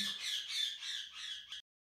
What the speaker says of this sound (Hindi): जो तोते हैं ना ये हमारे बहुत बोलते हैं